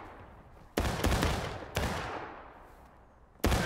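Rifle volleys crack out in War of Rights, a Civil War battle game, as three loud booming bursts spaced about a second apart, each fading into a long rolling echo.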